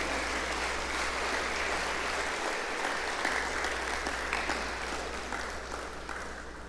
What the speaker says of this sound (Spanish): Démosle un aplauso al Señor y gracias.